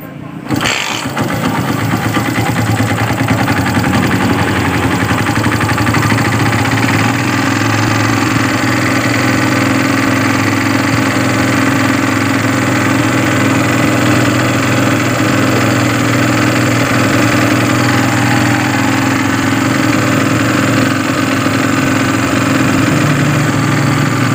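Yamaha Byson motorcycle engine, fitted with a substituted Supra starter bendix, cranks briefly then catches and settles into a steady, loud close-up idle that runs continuously.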